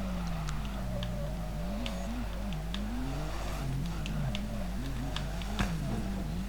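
A BMW E36 drifts in Drift21, its engine droning steadily with constantly rising and falling revs as the throttle is feathered, plus scattered ticks and light tire noise, no voices.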